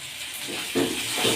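Finely chopped coriander fries with tomato in a pan for vegetable upma, making a close, steady hiss that swells in a couple of louder sputtering bursts.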